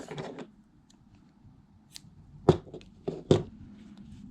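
Small scissors snip thread during hand sewing of a Star Wars Leia craft kit, giving a few crisp, close cuts spaced apart in a quiet room, with faint handling noise between them.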